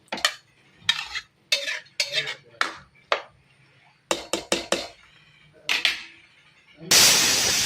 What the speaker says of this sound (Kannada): ಇಂಚ ಮಿಕ್ಸ್ ಮನ್ಪುಗ